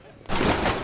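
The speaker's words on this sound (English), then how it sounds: "Open fire! Shoot everything," Dense burst of gunfire from a militia ambush in Batman Arkham Knight, a sudden loud rattling fusillade that begins abruptly and continues without pause.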